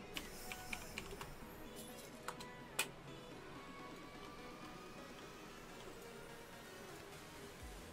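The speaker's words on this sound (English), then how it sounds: "Lovely sound of my keyboard." Fast, irregular clatter of a clicky computer keyboard being typed on nearby, crisp clicks and a few louder key strikes in otherwise quiet surroundings.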